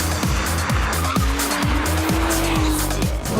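A Porsche 911 is driven hard around a test track, its engine note rising and falling through repeated gear changes while the tires squeal in a long sustained screech; the sound is loud and close.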